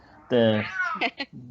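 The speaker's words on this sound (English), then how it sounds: "That's my cat Benny." A house cat gives a loud, drawn-out meow close by, followed by a few short chirping mews as it trails off.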